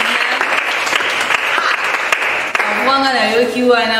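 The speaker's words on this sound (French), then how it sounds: "Est-ce que vous pouvez acclamer pour vous-même?" Loud, dense applause and cheering from an audience, praising themselves at a Christian television show with children, sustained throughout with a voice rising over the clapping near the end.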